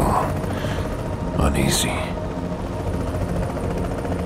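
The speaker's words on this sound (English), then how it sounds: "Choppers circling the outsides" Helicopters circling in The Division, a steady chopping drone throughout with a voice talking over it.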